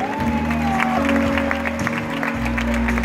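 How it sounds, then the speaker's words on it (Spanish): A concert audience at Starlite Festival in Marbella claps in a dense, steady burst of applause. Music hums underneath. "Un fuerte aplauso para él."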